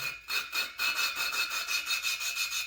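A cheap hand lapper twists a Kawasaki engine valve back and forth against its seat with grit, giving a close, rhythmic gritty rasping in quick even strokes with no talking.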